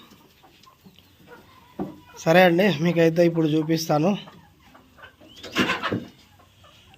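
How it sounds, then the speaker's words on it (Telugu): Chickens cluck nearby in a short burst and then again briefly, while someone speaks a few words. "అన్నీ నేను నడుస్తుంటే నా వెనక వస్తూనే ఉన్నాయి అన్ని కోళ్ళు"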